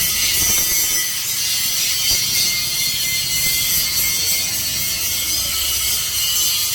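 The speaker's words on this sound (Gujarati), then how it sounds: "તો હવે રવિએ ઓલી બાજુ ગ્લાઇન્ડર ચાલુ કરી દીધું છે." Angle grinder working metal in a fabrication workshop, a loud continuous high-pitched whine and rasp held steady throughout, close by with no talk.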